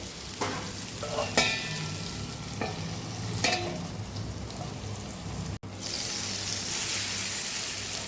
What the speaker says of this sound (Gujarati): વચ્ચે વચ્ચે આપણે બેથી ત્રણ વાર હલાવી લીધું છે